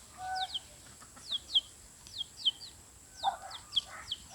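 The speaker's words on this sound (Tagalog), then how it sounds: "Ito guys, sisiw, hinahanap yung kanyang nanay." Small chick cheeping repeatedly on the ground, searching for its mother hen, a series of short high peeps in quick bursts near the listener with a soft outdoor background.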